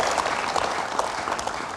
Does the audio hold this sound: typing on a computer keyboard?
no